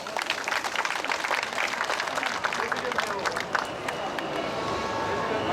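Applause from an audience at a memorial speech, dense and sustained clapping heard close and loud, fading slightly toward the end.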